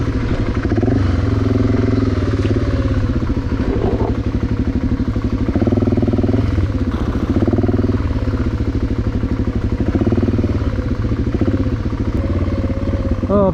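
A motorcycle rides along a narrow, rutted country lane, its engine a loud, steady drone throughout with light clatter over the bumps and slight swells in revs.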